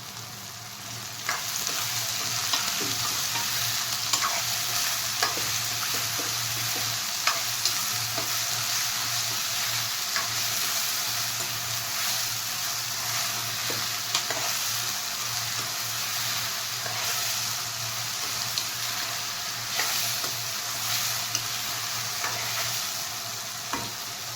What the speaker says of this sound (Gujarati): પછી સ્વાદ પ્રમાણે આપણે મીઠું એડ કરીશું પછી આપણે એને મિક્સ કરી નાખીશું